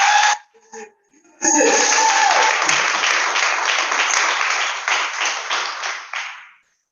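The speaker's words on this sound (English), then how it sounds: "So please start clapping right now. Give a hand." A youth poetry finals audience breaks into loud applause after a brief silence, a dense, close burst of many hands clapping that holds strong for several seconds, then fades away quickly at the end.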